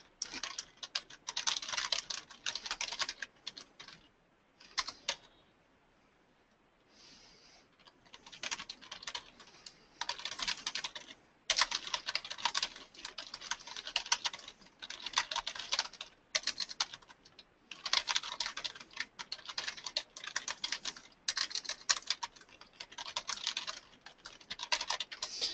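Steady typing on a computer keyboard, with fast runs of keystrokes broken by a few short pauses, close and clear with no voices.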